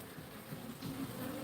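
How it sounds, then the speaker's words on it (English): Bees buzz steadily inside a hive, a dense low hum from many insects drawing out fresh white comb, continuous and close with no talking. "There was nowhere near these amount of bees in here."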